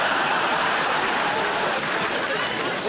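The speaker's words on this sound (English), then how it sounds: "The applause begs to differ." A studio audience on a comedy panel show applauds, a full, steady wash of clapping sustained throughout, with faint voices mixed in.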